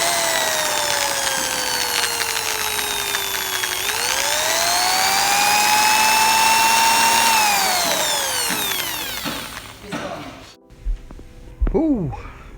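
Power drill working stuck bolts during a Honda throttle position sensor repair, a loud high whine that ramps up, holds and winds down, then stops, followed by a few short bursts and clatter at the end.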